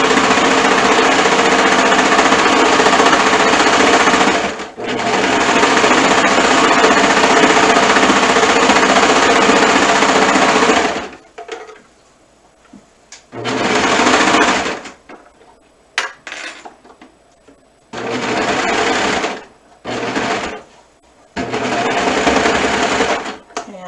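Sewing machine stitching a seam on a garment, running in long steady bursts with pauses between, loud and close, while a person talks in between runs.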